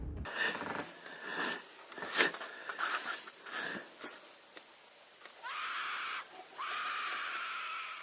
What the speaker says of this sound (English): Suddenly, a woman's scream pierced the forest.